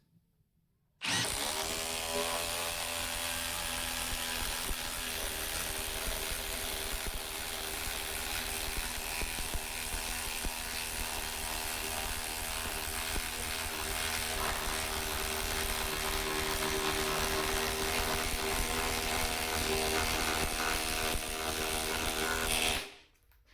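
A massive lag screw driven into wood with no pilot hole by a power driver, a steady, loud motor whine and grinding that runs unbroken for about twenty seconds and then cuts off abruptly.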